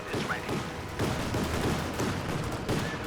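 Suppressing gunfire in the strategy video game Company of Heroes 2, a dense, continuous rattle of overlapping rifle and machine-gun shots with faint talk underneath.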